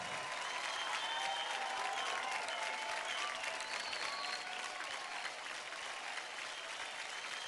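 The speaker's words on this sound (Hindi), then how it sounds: "जोरदार तालियां हो जाएंगे इसके पास राहुल एंड पॉल के लिए।" A crowd applauds warmly for Rahul and Paul, a steady wash of many hands clapping at an even level throughout with no voices on top.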